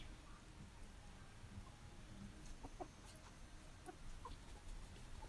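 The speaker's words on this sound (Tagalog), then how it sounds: "ito na yung ating native chicken mga kabaker na nailipat na natin dito sa ating breeding area" Native chickens cluck softly in a backyard breeding area, with a few scattered clucks over a low steady ambient hum, fairly faint and without speech.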